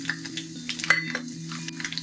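Bay leaf, cloves, black pepper and other whole spices frying in oil, a close soft sizzle broken by small clinks of a utensil against the pan.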